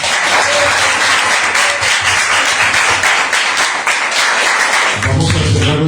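Applause closes a cultural management broadcast marking Talentum's eleventh anniversary: loud, dense clapping from a group runs throughout, thinning slightly near the end.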